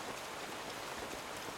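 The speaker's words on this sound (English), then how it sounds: "It's going to keep drizzling." Steady drizzling rain in an Avatar: The Last Airbender scene makes a dense, even hiss of fine drops, constant and close with no voices.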